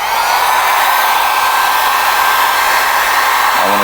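A heat gun blowing hot air onto a car bumper panel during paintless dent repair, a loud, steady close-up roar of rushing air that continues unbroken until a brief low knock near the end.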